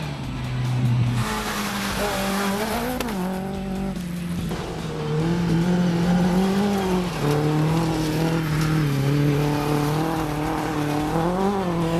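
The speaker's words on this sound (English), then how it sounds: "didn't stop Asia Potgieter and Tommy du Toit in their Lake Umuzi Volkswagen Polo from storming through the rally." A Volkswagen Polo rally car storms along a national rally stage, its engine loud and close, revving through rising and falling gear changes with continuous throaty drone and no talk.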